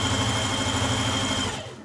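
A sewing machine stitches the centre back seam of a Simplicity 8601 top, giving a steady close-up motor whir that stops near the end.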